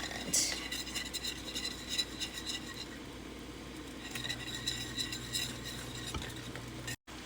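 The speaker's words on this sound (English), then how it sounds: "Give her a whisk, and start slowly adding in the cheese." A whisk stirs Alfredo sauce in a pan as cheese is slowly added, making a continuous soft scraping and swishing with faint sizzling, close and without voices.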